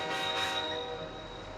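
A train stopping at a suburban station gives a sustained metallic squeal and rumble, loud at first and then easing slightly as it slows, with no voices.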